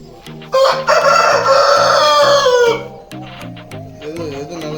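A free-range country rooster crows loudly and close, one long drawn-out call over steady clucking from nearby hens.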